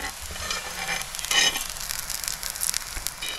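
Ghee sizzles around a jowar and coriander thalipeeth frying in a pan, a steady close crackle with a brief louder hiss partway through.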